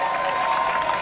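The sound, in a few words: applause from audience at political speech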